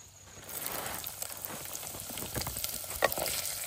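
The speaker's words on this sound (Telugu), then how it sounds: "పోపులు అయితే వేగిపోయండి. తర్వాత పచ్చిమిర్చి ఉల్లిపాయ అనేది వేసుకోవాలండి" Tempering spices sizzle in hot oil for a jowar poha upma, then green chillies and onion drop into the pan and the frying swells into a steady, close crackle with a few sharp pops and light stirring.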